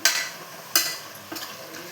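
Fenugreek leaves fry quietly in a pan, stirred in three distinct scraping strokes spaced apart over a soft background sizzle, no talking.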